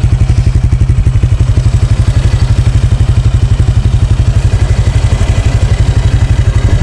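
A Honda Click 125 motorcycle fitted with an MT8 exhaust pipe and a reset ECU idles close by, its loud, even, rapid thumping exhaust pulse holding steady with no revving.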